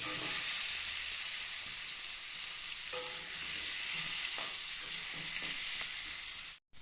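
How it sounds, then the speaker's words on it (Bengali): Cut potatoes fry in hot oil for a Bengali mutton curry, giving a steady close hiss and sizzle with a few faint stirring taps before the sound cuts off at the end. "কেটে রাখা আলুগুলো আমরা একটু ভালো করে ভেজে নেব"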